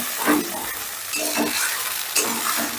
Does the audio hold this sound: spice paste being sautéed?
yes